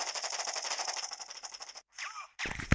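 An RPK machine gun in the mobile shooter Modern Strike fires a rapid, steady burst of rattling shots for nearly two seconds, then after a short pause come a few more sharp sounds.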